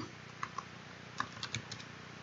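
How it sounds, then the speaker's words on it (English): Typing on a computer keyboard, a short run of crisp separate key clicks, fairly close and light, with no voice over them. "So I just type fish here."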